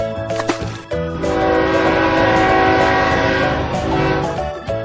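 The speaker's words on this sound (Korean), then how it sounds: "Train." Train with a loud sustained horn blast, loud and near, with rumbling rail noise underneath and a brief break before the horn swells and holds for several seconds.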